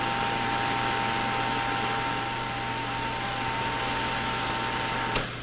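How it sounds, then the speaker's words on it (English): A 1961 16mm film projector runs with a steady mechanical whir and constant hum, loud and unbroken, with a small click near the end. "open the film shoes and run the projector"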